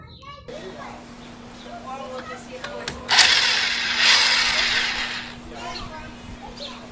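A ratchet working loose the hub nut on a 1996 Honda Civic DX during a driver-side CV axle replacement, heard as a loud rasping burst of about two seconds mid-clip, with people talking before and after.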